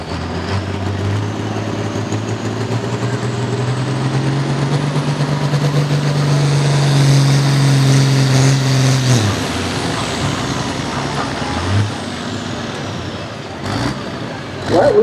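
A pulling tractor at a 2025 tractor pull in Selinsgrove roars loud and close. Its engine note climbs steadily, then drops sharply partway through and settles into a lower, rougher rumble.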